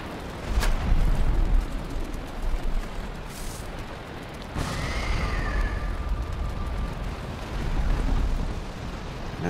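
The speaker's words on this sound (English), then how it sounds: "sorry about the rain" Steady heavy rain pours throughout in the video game Valheim, with rumbling thunder rolling in and a brief sharp crack partway through.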